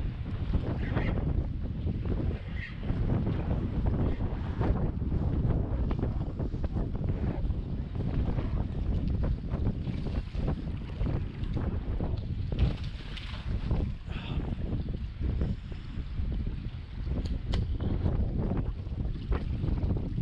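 Strong wind buffets a boat while fishing for tautog off New Jersey, a loud steady roar of wind noise on the microphone with waves underneath, constant throughout.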